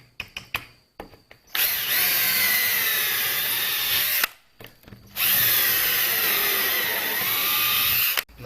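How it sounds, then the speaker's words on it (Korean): A power drill boring holes in wood while building a wooden toolbox in a woodworking class, with two long, loud, steady whining runs after a few short clicks and a brief pause between them. "구멍을 다시 뚫고"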